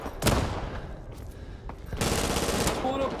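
Gunfire in the Vietnam War shooter Rising Storm 2: Vietnam, a loud shot or burst near the start and a denser stretch of rapid fire in the last second and a half, mixed with game noise.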